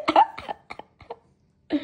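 A person who has been sick with a lingering cough for a week coughs several times in short, close bursts, with quiet pauses between them.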